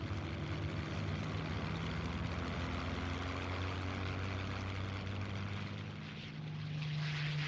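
Curtiss P-40 fighter plane engines roar in flight, a loud, continuous propeller drone with steady throbbing harmonics that dips briefly before swelling again, with no voices.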